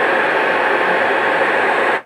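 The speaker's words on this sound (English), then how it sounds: "I get white noise for a little bit." A loudspeaker plays a loud, steady white noise test signal for room correction, then cuts off abruptly after about two seconds.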